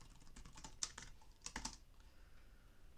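Quiet, uneven typing on a computer keyboard while writing code, with a few sharper key clacks in short bursts and pauses between.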